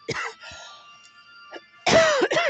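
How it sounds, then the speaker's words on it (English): A person coughs indoors in a hallway-adjacent room: a short cough at the start, a faint one shortly after, then a louder, harsher cough with throat clearing near the end, close and alone. "now the marijuana is making me cough"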